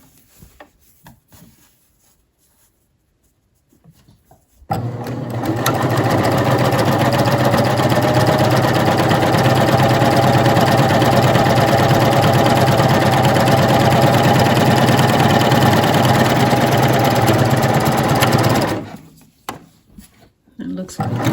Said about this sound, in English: now we're going to use the wide cover stitch on the t-shirt fabric